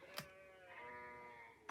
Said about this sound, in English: I don't know if you can hear the sheep